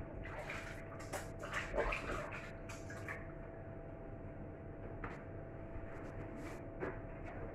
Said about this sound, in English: quick wash of the hands